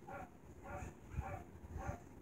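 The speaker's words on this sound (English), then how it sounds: "I do excuse the dogs barking in the background" Dogs bark off in the background of a home, with faint, muffled, repeated bursts sounding roughly every half second over a low hum of room noise.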